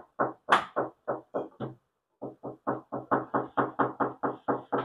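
Knuckles rap rapidly on a bare Honda WR-V body panel before sound deadening is fitted, giving tinny, hollow knocks in two quick runs separated by a short pause, close and clear.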